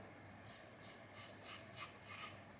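A polished RazoRock Lupo safety razor scraping across stubble in a run of about seven short, rhythmic strokes, close and quiet with no talk.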